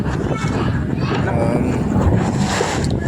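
Strong wind buffets a fishing boat at sea at night, a loud, constant roaring rush with rumbling gusts across the microphone and a faint murmur beneath.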